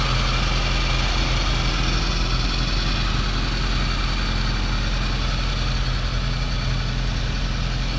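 A 1983 Mitsubishi Colt with a 1.4L engine idles steadily nearby, a continuous low, even rumble with no voices over it.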